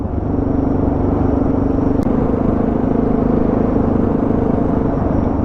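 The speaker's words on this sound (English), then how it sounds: "Yeah, quad bike." A quad bike passes along a dirt road in the Tasmanian outback, heard as a steady, loud engine rumble with a droning tone that stays constant, with no talking.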